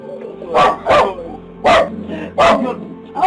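Dogs bark in loud, sharp bursts, about four separate barks spaced unevenly over a few seconds, close by, during an attack on a cat with a family present; a steady lower background runs between the barks.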